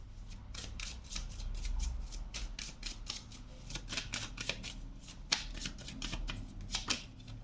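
A tarot card deck being shuffled close by, with a steady run of quick soft riffling and flicking card sounds and a few sharper snaps, fairly quiet, with no talking.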